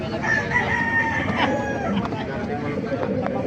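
Kanawayan gamefowl roosters crow repeatedly at a busy Baliuag market, drawn-out calls rising over a steady crowd murmur and people talking nearby.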